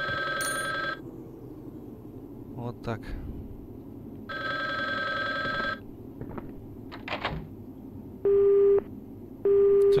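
A broken telephone in Resident Evil: Gun Survivor gives two short bursts of steady busy-signal tone at the end, after earlier electronic ringing tones, with someone speaking briefly in between.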